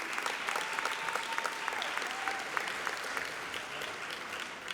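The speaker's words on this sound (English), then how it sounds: "Let's give it a round of applause." A graduation audience applauds in a large hall, a dense, sustained wash of many hands clapping at steady volume throughout, then easing slightly toward the end.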